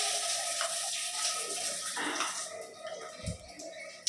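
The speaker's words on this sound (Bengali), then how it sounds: "ঝর্ণার পানি ঠিক আছে মোটামুটি" Water pours steadily from a newly finished bathroom's shower head at fairly strong pressure, a close, continuous hiss and splatter with no voices.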